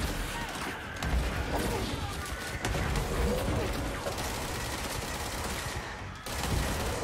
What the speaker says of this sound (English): I love this gun. It's so fast. It's I think it's called the spin gun.